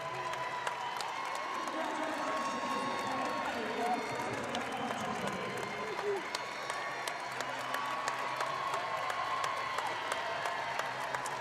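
A basketball arena crowd at a high school boys championship game applauds and cheers steadily for an honored Olympian, a dense, sustained wash of clapping and voices with a commentator talking over it.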